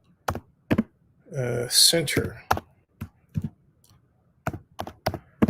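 Someone types on a computer keyboard during a police press conference, giving sparse, separate key clicks in an irregular rhythm, with a short spoken word in the middle.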